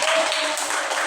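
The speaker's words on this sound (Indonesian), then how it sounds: "Beri aplaus kepada Nadia." Classmates clap for a student in a classroom, a short dense burst of applause that is close and steady for about a second.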